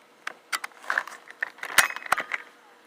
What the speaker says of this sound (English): You can just hear that bolt chunk.